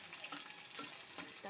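Crushed garlic fries in mustard oil with black cumin and dried chili, giving a steady, close, bubbly hiss with soft crackles throughout.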